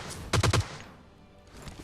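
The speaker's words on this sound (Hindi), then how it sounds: "3 बंदे गोली चलाते हैं" Gunfire in the PUBG Lite video game, with enemies carrying G36 rifles: three quick, sharp shots in rapid succession, moderately faint, followed by quiet ambience.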